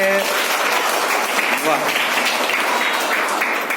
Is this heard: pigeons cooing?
no